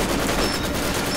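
Machine-gun fire from engineer MG squads in a Company of Heroes 2 4v4 match on Hill 400: dense, continuous rattling bursts with overlapping distant shots, loud and steady throughout.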